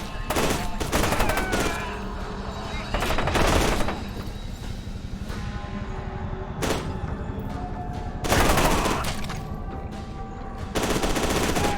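Gunfire from the video game F.E.A.R. 2 comes in repeated loud bursts and single shots, separated by short pauses, with some automatic fire mixed in.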